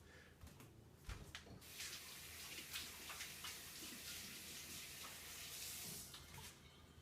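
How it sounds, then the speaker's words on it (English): Hands rinsed under a running tap while making sauerkraut, a steady, close rush of water that starts after a short knock and continues unbroken to the end. "So I'm going to clean my hands off here real quick."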